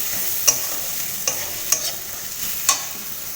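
Dried fish curry with vegetables fries in a pan under a soft steady sizzle, with four sharp scraping stirs of a utensil spaced about a second apart.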